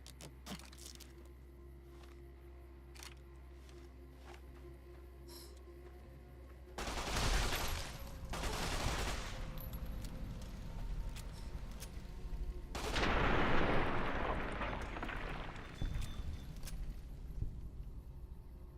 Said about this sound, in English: Probably should use a weapon suiting for these creatures then.